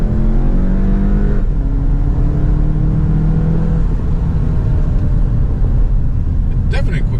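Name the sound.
car driving and accelerating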